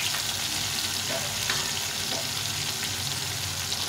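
A ground paste of ginger, cumin and coriander fries in a pan, giving a continuous dense sizzle with occasional soft stirring clicks. The sound stays fairly close and even, with no voices.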